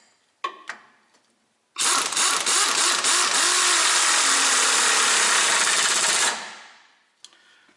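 Impact gun with a 16mm socket tightening a lubed sway bar link nut on a 2004 Ford Explorer 4x4 during a rear strut replacement: a few short clicks, then a loud sustained rattling hammer burst of about four and a half seconds that winds down.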